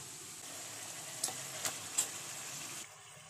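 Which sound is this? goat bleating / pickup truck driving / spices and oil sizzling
spices and oil sizzling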